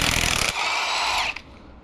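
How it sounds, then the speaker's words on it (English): A Milwaukee impact gun with a 27 millimeter socket hammers on the crank pulley bolt of a damaged Mercedes M113K AMG engine, one loud, dense, continuous rattling burst lasting over a second up close, then stopping abruptly. "A good Milwaukee gun and a 27 millimeter socket, and we'll get this crank bolt off"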